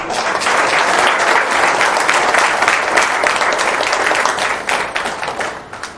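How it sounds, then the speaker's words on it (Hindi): A church congregation claps together in praise of Jesus Christ, a loud, dense, continuous burst of many hands that holds steady for several seconds before tapering off at the very end. "हम सब परमेश्वर यीशु मसीह को ताली बजाकर महिमा चढ़ाएंगे"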